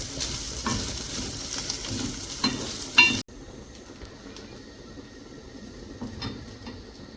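Clams sizzle and crackle as they fry in a pan for a Kerala clam fry, with stirring scrapes throughout, then drop abruptly to a quieter, steady sizzle partway through.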